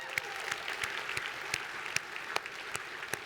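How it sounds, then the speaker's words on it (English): Applause from an audience at an Air Force Association keynote address, with individual claps standing out sharply over a steady wash of clapping that runs the whole time. "Give a clap."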